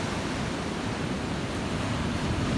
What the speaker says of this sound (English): Water coming in pretty good.